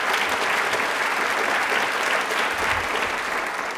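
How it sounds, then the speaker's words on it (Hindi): A studio audience at a Rajasthan TV quiz show breaks into sustained, dense applause, steady and loud throughout with no speech over it. "एक बार भारत के लिए तालियां जोरों से बजा दीजिए प्लीज।"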